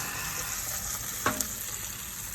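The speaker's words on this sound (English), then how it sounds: "I'm caramelizing some onions for dinner tonight." Onions caramelizing in a pan, a soft, even sizzle with a single brief clink of a utensil partway through.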